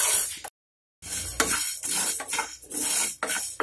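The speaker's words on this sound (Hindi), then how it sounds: "खड़ी मेथी भून लेंगे।" Whole fenugreek seeds dry-roasting in a pan over low to medium flame, with rattling scrapes and stirring against the metal, close and loud, after a brief gap of silence.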